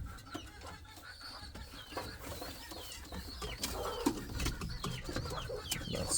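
Indian Fantail pigeons giving soft repeated coos and clucks at close range over a busy loft background of rustling and faint bird calls.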